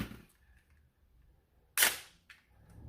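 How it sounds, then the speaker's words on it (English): Magazine released and pulled from a WMYH Thunder Blazer toy blaster, one sharp plastic click-and-slide burst near the middle, then a softer clack, close up in a quiet room. "So say you want to take your mag out"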